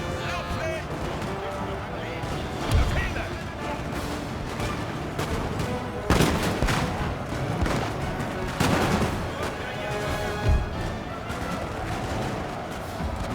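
Napoleon: Total War battle with musket volleys and gunfire, sharp cracks and booming blasts that repeat at irregular intervals over a dense battlefield din, with someone talking over them.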